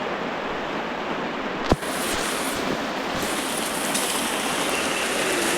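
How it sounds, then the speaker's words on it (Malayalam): Heavy rain pouring at night in rural Wayanad, a dense, steady, loud roar of falling water with one sharp knock partway through. "അടിപൊളി മഴയാണ് കുറേ നേരം മഴക്കൊരു ശമനം ഉണ്ടായിരുന്നു ഇപ്പൊ വീണ്ടും തുടങ്ങി നല്ലോണം പെയ്യുന്നുണ്ട്"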